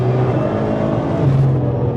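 A 1000hp Nissan GTR on a race track, its engine droning loud and close under load with a steady rising pitch and a brief shift in tone near the end, no voices.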